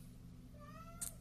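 A cat gives a single short, soft meow, faint and near, over a low steady hum with no talking.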